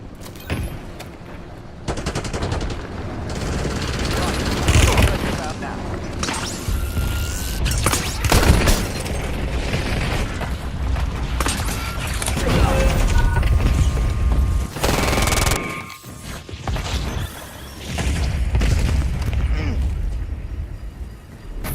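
In a military video game, rapid bursts of gunfire and machine-gun fire mix with booming bomb explosions in a dense, loud, continuous barrage, with occasional voices under the noise.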